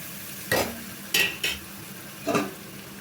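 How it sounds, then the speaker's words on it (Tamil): Tomatoes sautéing in a pan, a soft steady sizzle broken by four short scraping strokes of a spoon stirring, close by and with no one talking. "தக்காளி பழம் கொஞ்சம் குழைய வணங்கி வரட்டும்."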